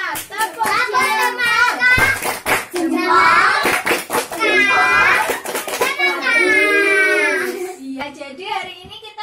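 Indonesian children in a first-grade class chant loudly together in a singsong rhythm, punctuated by quick bursts of sharp thumb-clapping between their voices.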